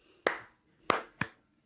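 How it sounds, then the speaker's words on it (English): Three separate sharp claps from people syncing a remote podcast recording over Discord, slightly out of step with each other, crisp and close with short gaps and silence around them. "for syncing purposes, can everyone clap in 3, 2,"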